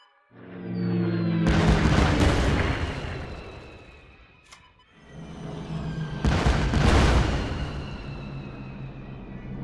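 Two heavy bomber-attack explosions in the KARDS WWII card video game, each a loud booming blast with a long rolling decay, spaced several seconds apart.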